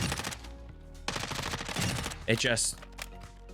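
Warzone hip-fire gunfire: short, loud automatic bursts, strongest around the middle, mixed in with ongoing game sounds.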